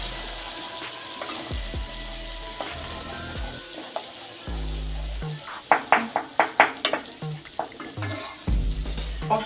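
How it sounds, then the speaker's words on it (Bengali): A spice paste made with ground green and dried chillies is sautéed in a pan for a chicken curry, with a constant loud sizzle, a run of rhythmic stirring scrapes midway and steady background tones. "এটা কষা হোক।"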